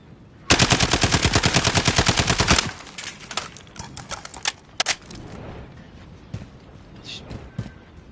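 A SCAR rifle fires a rapid automatic burst during a recoil test in Call of Duty, a loud, evenly spaced string of shots lasting about two seconds, followed by scattered single shots and quieter in-game clatter.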